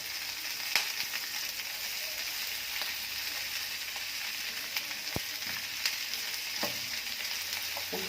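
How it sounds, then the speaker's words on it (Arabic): Bell peppers and three chopped garlic cloves fry with chicken wings in a hot pan, a steady close sizzle broken by scattered scrapes and knocks of a stirring utensil. "ونحمرهم معانا."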